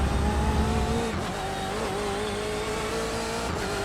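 BMW 120 race car in the iRacing sim, engine droning steadily at high revs with shifting pitch and a brief gear change, tires humming close and continuous.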